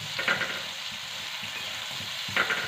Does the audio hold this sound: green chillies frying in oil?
yes